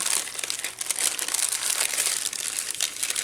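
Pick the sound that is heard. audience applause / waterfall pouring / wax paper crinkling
wax paper crinkling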